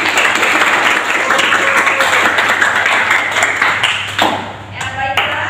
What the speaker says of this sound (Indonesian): Ya, oke, tepuk tangan.